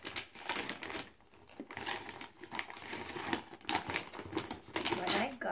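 Wrapping paper on a Christmas gift crinkles and tears in bursts of rustling and crumpling, close by, as a person talks over it.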